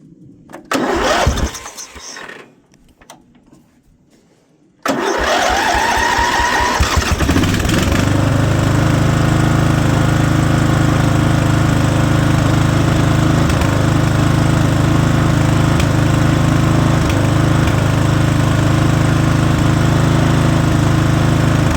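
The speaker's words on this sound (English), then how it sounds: "That's lean popping. The jetting's not right in that carburetor, and I can't get the old jets out." A 1991 Noma 12/39 riding lawnmower engine, running lean because of wrong carburetor jetting, is cranked and catches, then runs loud and close with a steady drone broken by occasional pops; brief talk precedes the start.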